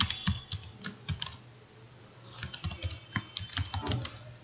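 Code being typed on a computer keyboard, close and clear, with quick bursts of key clacks, a brief lull in the middle, then another rapid run of keystrokes.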